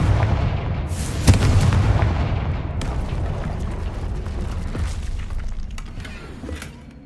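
The Confringo blast spell in Hogwarts Legacy sets off a loud, close explosion: a sudden sharp crack and boom, then a long rumbling decay with debris clatter that slowly fades.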